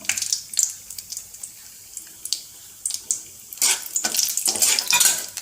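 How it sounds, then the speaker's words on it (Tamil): Cashews roasting in a pan over a low flame for dates halwa, heard as close scraping and clinking of a spoon stirring against the metal pan, with a light sizzle building toward the end. "லோ ஃப்ளேமில் இருக்கனால பொன்னிறமாக நல்லா வறுப்பட சரியாக இருக்கும்."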